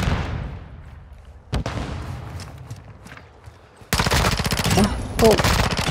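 Gunfire in a first-person shooter video game: scattered sharp shots early, then sustained rapid automatic bursts in the second half, loud and close.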